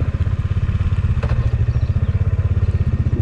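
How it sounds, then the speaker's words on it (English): A motorcycle engine thumps in a close, rapid, steady rhythm as the bike is ridden down a slope on a Sri Lanka road trip. "taking the bike down from here"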